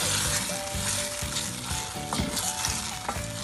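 Garlic and blended sauce sizzle steadily in a hot pan for a wet hamburger, with the scrape and clink of a spoon stirring through it. A continuous close frying hiss with no talking.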